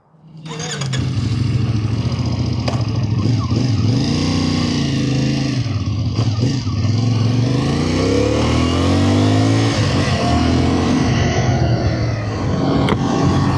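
A Moto Morini Vettore 450, an Italian motorcycle, rides off with a loud, close engine drone that rises and falls through several gear changes, heard alone with no talking.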